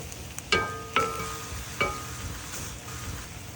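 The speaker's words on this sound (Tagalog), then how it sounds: "beef in the hot pan until it starts to brown" Beef browning in a hot pan gives a steady, moderately quiet sizzle, with a few sharp clicks and scrapes of a utensil against the pan near the start.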